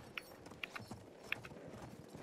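Horse hooves clip-clop faintly beneath a rider in Battlefield 1, a few distinct hoof strikes at an uneven gallop rhythm over a low rumbling battlefield background.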